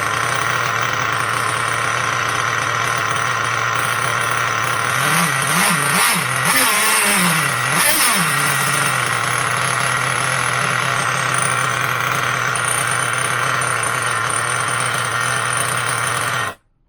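A car engine runs steadily and loud throughout, with a brief rise in revs partway through before settling back, then cutting off abruptly at the end.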